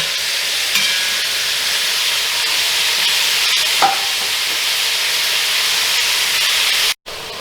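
Two pounds of coarse ground beef browning in a pan for shepherd's pie, a steady close sizzle and hiss running evenly throughout with a brief stir partway and a sudden cut near the end.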